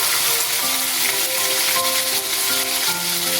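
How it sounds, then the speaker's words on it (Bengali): Pieces of rohu fish fry in hot oil in a pan, a loud, continuous crackling sizzle that holds steady with no talking. "একদিক ভালো করে ভাজা হয়ে গেলে আর একদিক উল্টে দিচ্ছি।"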